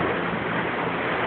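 Steady broadband wash of waves stirred up by passing boats off Key West, a continuous surging rush with wind noise over the microphone and no voices.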